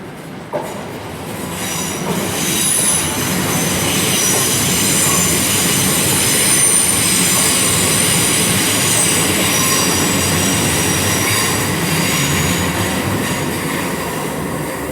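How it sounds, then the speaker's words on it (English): A terminating Heathrow Express service from Heathrow Terminal 5 pulls into London Paddington, a steady loud rumble of rolling stock with high wheel squeal drawn out across the whole stretch, echoing under the station roof. "Coming in now is a terminating Heathrow Express service from Heathrow Terminal 5"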